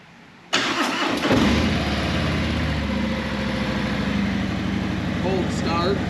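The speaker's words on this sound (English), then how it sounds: "Cold start." A car engine cold-starting: a starter crank bursts into a loud, steady fast idle that holds close up, with the idle running slightly high throughout.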